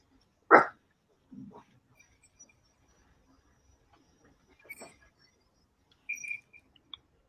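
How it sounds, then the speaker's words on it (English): A dog indoors gives one sharp close bark followed by a softer muffled woof, then scattered faint yips and small noises across a mostly quiet room. "What are you barking at?"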